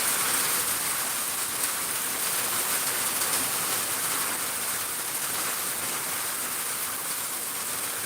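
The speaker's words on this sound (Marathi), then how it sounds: "जबरदस्त पाऊस पडत आहे बघा शेतकरी मित्रांनो" Heavy rain pours steadily over farmland in Miraj, Sangli district, a dense, even roar of downpour that continues unbroken.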